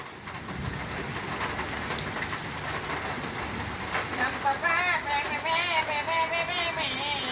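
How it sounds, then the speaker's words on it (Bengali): Heavy rain falls in Gulshan, Dhaka as a continuous broadband hiss. Pigeons coo nearby in repeated phrases during the second half. "ঢাকা গুলশানে বৃষ্টি হচ্ছে"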